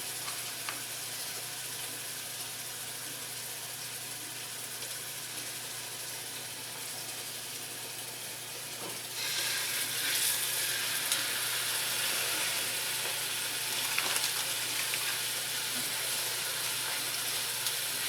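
Chuck roast searing in a pan with a continuous hissing sizzle that grows louder partway through, close and steady with no talk.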